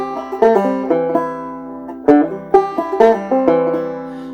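A bluegrass banjo plays a C lick, a quick run of bright plucked notes with hammer-ons, clear and close with no talking.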